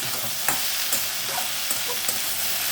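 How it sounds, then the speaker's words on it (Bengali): Red amaranth greens fry in a pan, making a steady hiss broken by several crisp scrapes as a spatula stirs them, close and clear, with no talking. "এটা একটুখানি ভাজা ভাজা হয়ে যাক"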